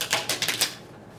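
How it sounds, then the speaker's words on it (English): A quick, crisp flutter of cards riffling together, a short burst of rapid snapping that stops after about half a second. "Shuffling the deck."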